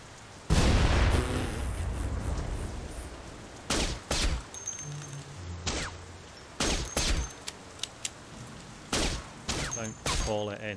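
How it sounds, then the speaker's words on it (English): A grenade blast in The Saboteur, a loud broadband boom at the start followed by a scatter of sharp gunshot-like cracks and bursts, with a voice speaking briefly among them. "What if I blow these up? And throw a grenade."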